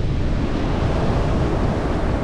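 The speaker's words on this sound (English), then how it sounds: "the ocean here." Ocean surf along the coast rolls as a continuous, loud wash with heavy wind rumble on the microphone, no voices.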